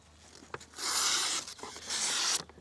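A Cold Steel Ultimate Hunter knife slices through paper in two long, rasping strokes, with faint rustling and handling sounds in between.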